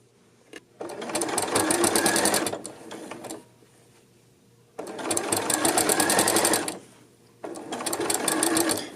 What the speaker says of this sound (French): Donc ici, à la fin, je rembarque sur ma couture.